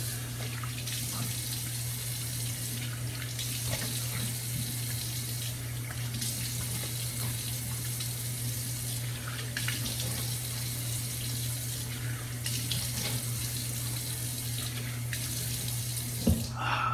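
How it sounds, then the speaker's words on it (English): Water from a tap runs steadily into a sink as someone rinses off after a shave, a constant close splashing flow with small bumps and splatters throughout and no talking. "let me go ahead and rinse off real quick"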